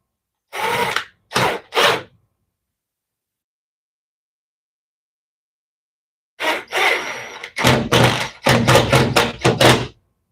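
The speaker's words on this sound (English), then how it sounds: "screw gun." A power screw gun drives screws into a wall stud in short bursts: three quick whirs, a long pause, then a denser cluster of loud whirring bursts close by.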